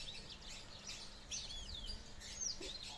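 Canaries chirp in a cage, giving a few short, high twittering calls and quick upward trills against a low background hum.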